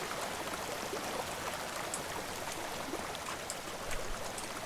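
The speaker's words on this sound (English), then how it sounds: "see water flowing down" Water flows down the walls of a church in the DrainSim video game, a steady, fairly faint hiss of trickling water with light spattering and no voices.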